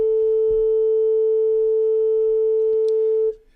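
A single steady pure musical tone standing for the length of a vertical line, held evenly for over three seconds before cutting off abruptly, with faint background noise.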